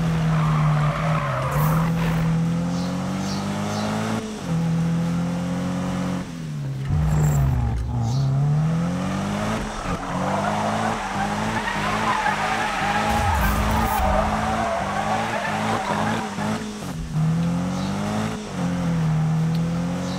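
A Challenger SRT race car in the Need for Speed racing game skids with squealing tires over a steady, loud engine drone that rises and falls through the run, with no talk.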